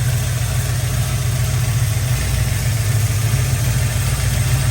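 A 1970 Ford F-100 Bumpside with a Crown Vic engine swap idles steadily on a freshly installed 600 CFM FST carburetor, a close, constant low-pitched rumble with no talk.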